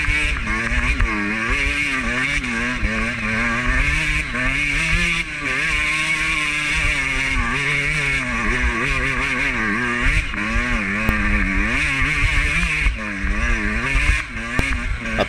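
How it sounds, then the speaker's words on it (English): A dirt bike rides a singletrack trail, its engine droning loud and close throughout and rising and falling in pitch as the rider works the throttle over rough ground. "Keep your feet on them pegs and just keep the bike moving."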